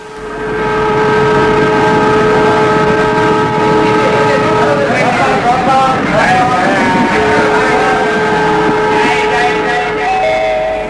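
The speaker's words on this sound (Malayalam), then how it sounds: "ന്യൂഡൽഹിയിൽ നിന്നും വരുന്ന 2626 നമ്പർ കേരള എക്സ്പ്രസ് അല്പസമയത്തിനുള്ളിൽ 1-ാം നമ്പർ പ്ലാറ്റ്ഫോമിൽ വന്നു ചേരുന്നതാണ്." The Kerala Express pulls into a railway platform, a radio-drama sound effect with loud rumbling wheels, sustained horn tones and clattering carriages that swell and shift as the train arrives.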